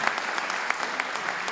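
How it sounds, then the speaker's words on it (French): Audience at an accessibility awards ceremony applauds, a brief, steady patter of many hands clapping at moderate volume with no voices over it. "Merci, on peut l'applaudir."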